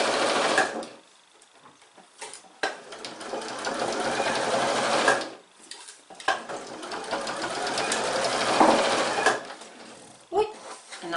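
A sewing machine stitches the lining for a fabric egg in bursts, each run of stitching a few seconds long and separated by short pauses, with a quick backstitch at the start and the end of the seam. The machine is close and steady.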